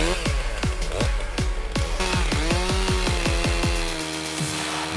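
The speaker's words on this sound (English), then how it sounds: "The MS661 SE chainsaw is one of the outstanding chainsaws, highly appreciated for its performance and durability" A Stihl-style MS661 SE chainsaw cutting wood, its engine snarling loud and close with a continuous, rising and falling rev as the chain bites through the timber; no talk.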